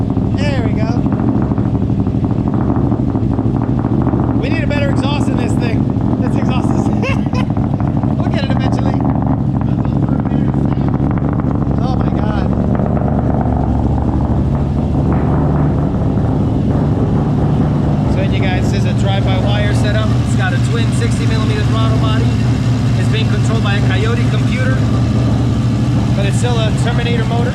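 A Ford Terminator Cobra V8 from 2003, fitted with a Coyote ECU and a Bassani exhaust, runs steadily with a loud, choppy rumble. It sits close by, with voices talking over it throughout.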